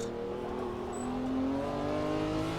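A race car on the Nürburgring's old Südschleife at Boxberg drones at steady revs as it heads into the braking zone for Müllenbach, its engine note sliding gradually upward, continuous and moderately close.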